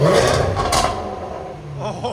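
A loud supercharged 5.0-litre V8 in a 2022 Range Rover SVR fitted with an X-pipe and resonator delete roars in a deep rev at the start, then settles into a rumbling idle with a brief rise near the end.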